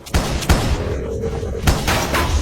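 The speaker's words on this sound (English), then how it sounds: "At the pier, Mitch orders Ronnie to fire the party fireworks" Several sharp booming bursts go off in quick succession, loud and close, with crackling between them like a fireworks barrage.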